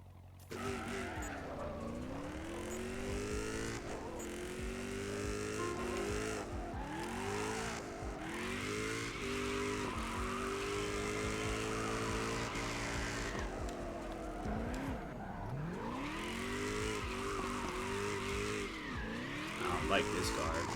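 A Mustang drifting in a video game: the engine revs and rises in sweeping pitch bends while tire squeal runs continuously over about twenty seconds, loud and sustained, with someone talking over it.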